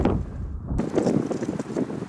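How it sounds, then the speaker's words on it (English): A gust of wind buffets the microphone outdoors during an elk hunt, a low rumbling roar that swells and eases across a couple of seconds. "just let that gust die down."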